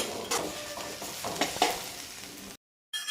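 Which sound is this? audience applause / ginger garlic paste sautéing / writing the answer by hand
ginger garlic paste sautéing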